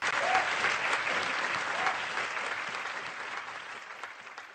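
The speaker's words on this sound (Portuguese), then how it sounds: "Frenéticos aplausos secundam-lhe a palavra inflexível." Frenzied applause from a crowd, a thick continuous roar of clapping that holds steady and eases slightly toward the end, with some voices underneath.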